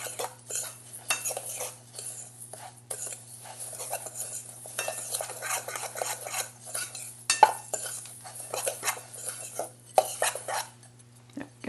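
A fork stirs breadcrumbs and seasoning for breaded okra in a bowl, producing quick, irregular scraping and tapping against the bowl, close and clear over a low steady hum, with no talking.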